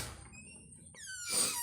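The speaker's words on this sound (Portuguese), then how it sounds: "Bem, aqui está a porta, vamos abrir." A house door in Brazil gives a brief, high, faint squeak as it swings open, over a low background hum.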